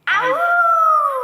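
A voice imitates a wolf howling loudly for a children's storybook reading, one long rising and sustained tonal howl, close and strong, held steady before stopping abruptly.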